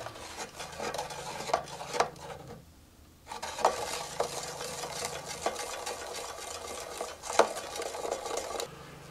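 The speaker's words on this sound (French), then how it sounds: "Et on mélange pendant au moins 10 minutes." Soap bubble liquid mixture being stirred in a container, giving irregular scraping and clinking strokes with a short pause in the middle, close and moderately loud, with no voices.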